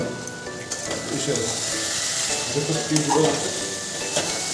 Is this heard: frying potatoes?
yes